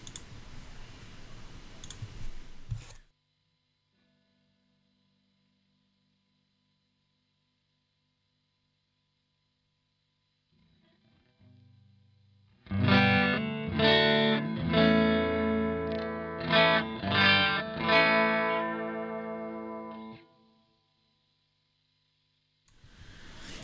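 A Musima Lead Star electric guitar plays a short run of clean, bright single notes and chords for several seconds, with near silence before and after.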